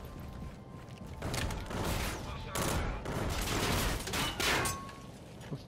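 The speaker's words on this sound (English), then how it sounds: "Where the fuck are they shooting from?" Heavy automatic gunfire in a Call of Duty Infinite Warfare Domination multiplayer match, loud sustained bursts with mechanical clatter and a player's voice in the mix.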